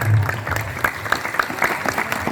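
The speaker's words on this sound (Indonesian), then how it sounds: "Oke, tepuk tangan dulu" Crowd of high school students clapping at a Maulid Nabi gathering in a school, a loose, uneven burst of hands with scattered sharp claps, starting with a low voice and thinning out over the short stretch.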